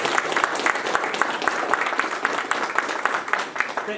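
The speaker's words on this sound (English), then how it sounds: "if I may ask you to just do a round of applause to Matt" A conference audience at an AI and blockchain panel gives a round of applause, with a dense, even patter of many hands that holds steady throughout.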